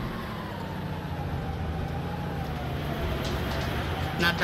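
A truck engine in the video game DayZ drones steadily, a loud low rumble with a slowly falling tone, continuous and close, with no talking.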